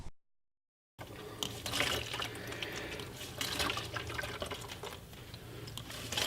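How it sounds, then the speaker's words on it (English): Water is pumped out through a length of hose fitted snugly on a tube with an angled tip. After a brief silence it gushes and splashes in a continuous wet rush, with irregular gurgling surges, fairly close and moderately loud. "you'd be surprised at how fast you can pump the water out of one of these things with these"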